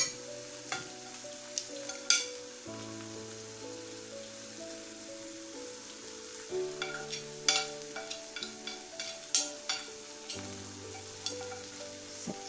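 Ground spices such as black pepper, crushed chilli, red chilli powder, cumin and turmeric sizzle and are stirred in a pan for a brain masala fry, with irregular scraping stirs and crackling bursts over a steady background tone, no talk.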